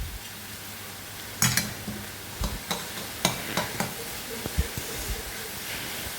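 Ponnamkanni cheera spinach thoran being stirred in a pan, a soft background sizzle with a run of quick scrapes and clinks from the spoon, fairly quiet and with no talk.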